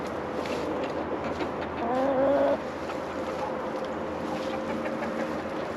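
Chickens in a coop on a freezing winter day, one giving a clear drawn-out crowing call over soft background clucking and a steady low hum, close by.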